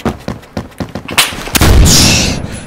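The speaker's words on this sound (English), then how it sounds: "How do you shoot that far with the shotgun?" Shotgun blasts in a Roblox shooter game: a rapid series of sharp, punchy reports followed by two heavier booming shots with a rumbling tail, loud and close.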